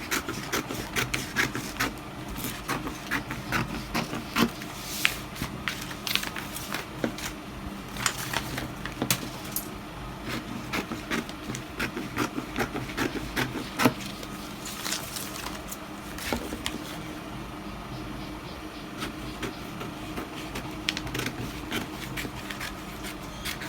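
Scissors cut out fabric pieces for the bodice of an off-shoulder dress, a steady run of close, crisp snipping and rasping strokes over about twenty seconds with no talking.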